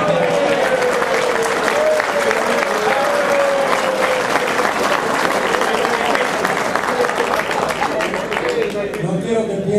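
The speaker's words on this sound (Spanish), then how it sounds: "Quiero pedir un fuerte aplauso." Loud, sustained applause from a large crowd, dense clapping that fills the whole stretch at an even level, with a voice audible underneath.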